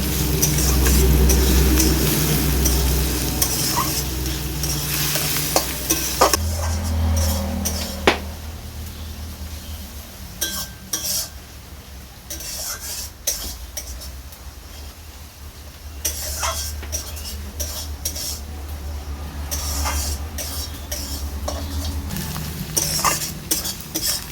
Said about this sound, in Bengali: এবার এতে আমি দিয়ে দিচ্ছি পেঁয়াজ কুচি, দিয়ে দিচ্ছি রসুন কুচি। ভালো করে এটা আবার আমি কষতে থাকবো।